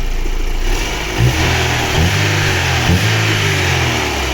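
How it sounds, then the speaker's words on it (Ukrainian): A repaired Daewoo Lanos 1.5 engine runs steadily at idle, close by, with a few brief revs or bumps in pitch along the way and no voices. "Можете послухати, ось так працює наш двигунчик."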